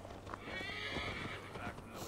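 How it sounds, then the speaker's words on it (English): A horse in Assassin's Creed Valhalla neighs in a clear, close whinny lasting about two seconds, with faint hoof clip-clop and game ambience underneath. "That's my horse."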